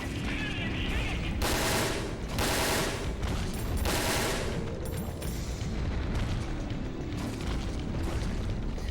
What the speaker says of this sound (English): Just hit the head with the assault rifle until it reels back